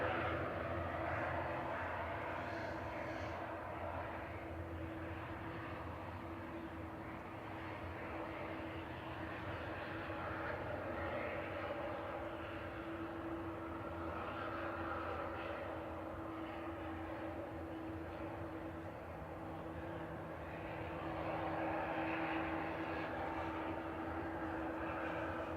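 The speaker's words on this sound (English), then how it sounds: "Aer Lingus Regional coming in from Belfast there." An Aer Lingus Regional ATR 72-600 turboprop lands at Manchester Airport from Belfast. It gives a faint, sustained engine drone with a steady low tonal hum running beneath a soft rushing wash, rising slightly near the end, with no voices.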